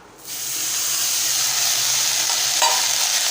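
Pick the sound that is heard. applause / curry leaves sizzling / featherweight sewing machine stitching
curry leaves sizzling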